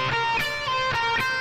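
A short blues pattern on electric guitar, played once in a single position: a handful of crisp picked notes in a loose rhythm, close and clear with no voice.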